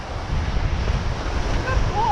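Ocean surf at a beach with steady wind rumbling across the microphone, a continuous low wash of breaking water throughout, plus a brief faint tonal squeak near the end.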